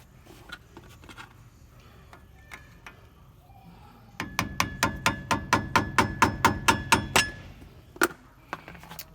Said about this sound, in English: I'm gonna be using a screwdriver and a hammer to tap it out